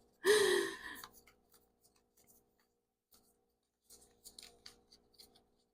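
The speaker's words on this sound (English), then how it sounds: "I always have a hard time with this deck because it's really tiny. It's hard to shuffle." A quick, loud riffling burst of a small tarot card deck near the start, followed by scattered faint clicks and soft shuffling rustles.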